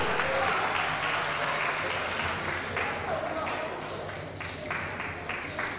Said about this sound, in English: Give them a round of applause, a big round of applause.